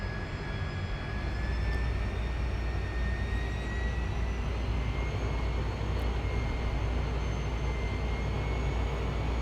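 Lockheed T-33 jet engine in Microsoft Flight Simulator spooling up, a steady broadband roar with faint rising whine tones sweeping gradually upward, constant and close throughout with no voices.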